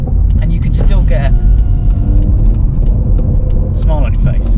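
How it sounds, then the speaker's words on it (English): A BMW M140i with a valved exhaust cruising at about 20 mph gives a steady, deep exhaust rumble throughout, close and loud, while someone talks over it. "It's normally a valved exhaust or a switchable exhaust where you can turn it all off"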